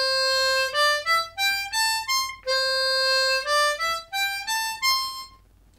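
A harmonica plays a major pentatonic scale alone, stepping up then back down through clear separate notes at a moderate, even pace, ringing bright and close with no talking.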